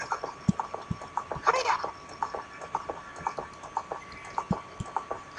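A horse gallops in the Zelda: Ocarina of Time video game with a steady, rhythmic clip-clop of hooves. Someone talks over the hoofbeats.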